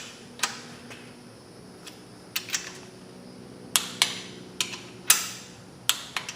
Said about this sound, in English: Okay, I'm going to go ahead and start torquing these mains down.